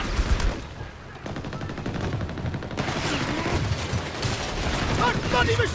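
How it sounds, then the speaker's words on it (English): Battlefield gunfire in Company of Heroes 3: dense volleys of machine-gun and rifle shots crackle steadily through the whole stretch, with rapid bursts layered under a busy wartime din and a voice calling out now and then. "That bloody machine gun needs to sod off!"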